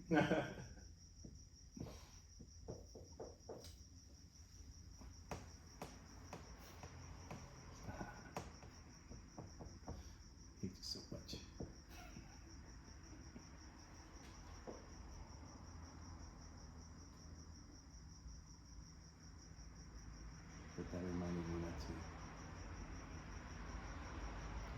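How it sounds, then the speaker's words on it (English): Summer crickets chirp steadily in the background, a faint continuous trill heard indoors under people talking. "Cricket's back. Summertime. Crickets."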